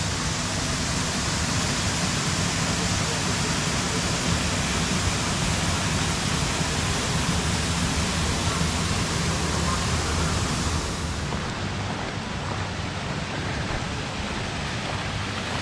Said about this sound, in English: Its 200-foot long wooden flume brings water to the mill's turbine.